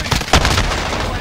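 A loud single gunshot in a video game, a short sharp blast with a rumbling tail amid a busy, noisy battle background.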